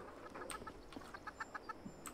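A chicken in the video game Fallout 76 clucks in a quick run of short, close clucks over a steady game ambience, with no talking.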